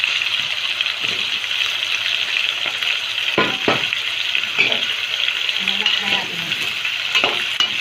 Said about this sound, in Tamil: இப்போ நம்ம பொட்டேட்டோஸ் ஆட் பண்ணி ஃப்ரை பண்ணி எடுத்துக்கலாம்